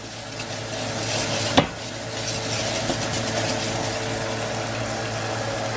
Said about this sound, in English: There goes the mushrooms. A little quick saute, man.